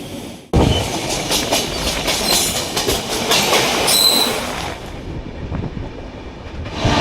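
A passenger train on the Kolkata to Jhargram route rumbles loudly and continuously with rhythmic wheel clatter and an occasional thin squeal, heard from on board; it cuts in abruptly after a brief silence and fades near the end.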